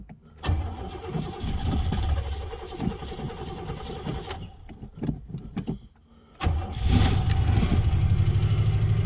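A 1984 Oldsmobile Delta 88 engine cranks and catches, runs unevenly, nearly stalls and goes quiet, then fires again into a loud, steady idle close by.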